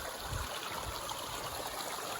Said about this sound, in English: This is Gould Brook